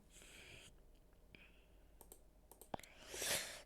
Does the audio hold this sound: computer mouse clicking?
yes